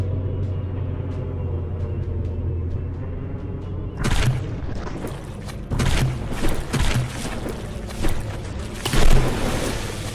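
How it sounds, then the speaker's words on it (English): A battleship turret blowing apart in the naval combat game From The Depths, several loud booming blasts after a steady engine hum, arriving in irregular bursts over the second half. "another turret gets popped"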